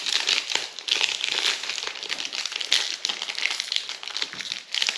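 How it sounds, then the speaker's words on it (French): A Lorcana booster pack wrapper being opened by hand, its plastic foil crinkling and crackling steadily and close up for several seconds, with no voices. "On va s'ouvrir le petit booster."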